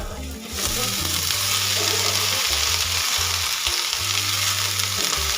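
Spring onion greens and turmeric fry in a pan with a loud, steady sizzle, alongside repeated low scraping stirs throughout.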